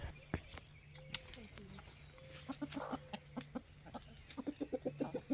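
Homestead chickens in a backyard flock cluck in short rhythmic bursts, with a sharper call early on and a quickening run of clucks near the end, moderately close and unaccompanied by speech.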